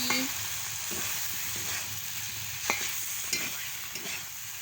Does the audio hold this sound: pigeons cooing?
no